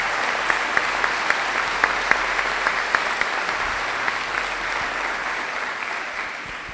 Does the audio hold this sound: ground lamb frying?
no